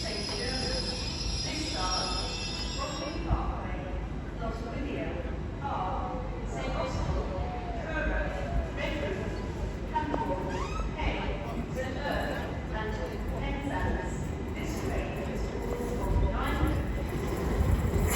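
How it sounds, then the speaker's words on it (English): A Heathrow Express train waits at a London terminus under a steady rumble with faint squealing, while station chatter and announcements carry on throughout. "Soon to depart now will be a 1355 Heathrow Express service to Heathrow Terminal 5."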